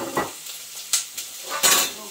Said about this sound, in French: faire revenir les oignons